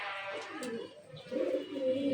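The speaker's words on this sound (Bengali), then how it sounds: "এই যে এখানে অনেকগুলো কবুতর আছে" Racing pigeons in a pigeon loft give soft, low cooing calls, close by and fairly quiet, running continuously through the short stretch with no talk over them.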